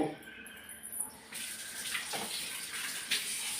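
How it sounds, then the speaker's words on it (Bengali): Oil pours into a frying pan in a steady, close liquid stream that begins after a second and continues to the end. "দেখো তেল দিচ্ছি"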